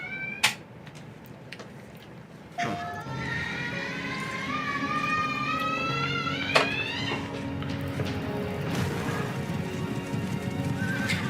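Horses neighing and whinnying in a cinematic trailer for the video game Horses, with a sharp hit near the start, then a long rising whinny and hoof clip-clop over a layered backdrop, fairly loud and near.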